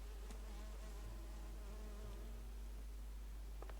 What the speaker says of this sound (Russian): Что за мухи, ё-моё?